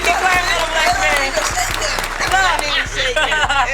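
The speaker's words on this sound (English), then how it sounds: "We can clap for the Black man." A small group claps in uneven bursts alongside laughter and excited voices talking over it, close and lively in a casual studio conversation.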